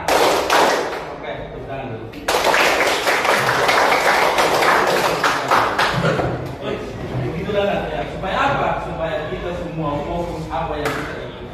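Teachers in a classroom session clap together in a loud burst of rapid, dense clapping that gradually thins out, with people talking over it.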